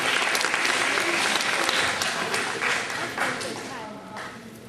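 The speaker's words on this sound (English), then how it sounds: "Give her a round of applause." Students on a school field trip applaud a classmate, a brisk burst of many small hands clapping that holds steady and then gradually thins out.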